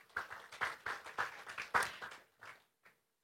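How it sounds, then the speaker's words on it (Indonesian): In a church service, a handful of sharp, quiet claps land in a loose rhythm, about nine in all, thinning and fading into silence by the end. "Beri tepuk tangan untuk Tuhan Yesus."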